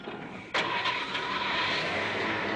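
A car engine roars up abruptly after a brief lull and holds a steady, loud revving drone for a couple of seconds, with no talk over it.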